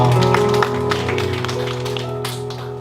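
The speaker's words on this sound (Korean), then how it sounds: "하나님께 영광의 박수 올려드립니다" A congregation claps together during a Sunday service at a Korean church in Suwon, a steady patter of hands layered over sustained keyboard chords that fill the room.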